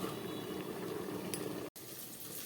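Labra mixed vegetables simmer in a covered pot over a low gas flame, giving a steady, soft bubbling hiss with no talk, broken only by a very short dropout.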